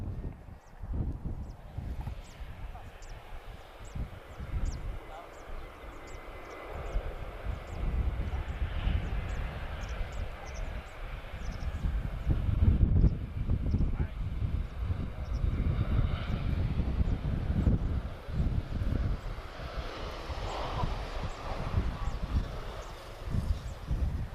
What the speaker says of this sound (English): A319 111 TP573. She's arriving from Frankfurt.